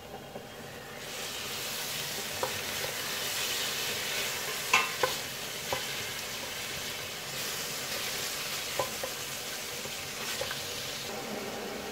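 Meat sizzles and fries in a pot with onions and garlic, a continuous close crackle broken by several sharp stirring clinks and scrapes, with no talking.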